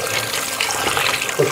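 Running tap water splashes steadily in a sink, a continuous close rushing sound with small shifts as meat is rinsed under the stream.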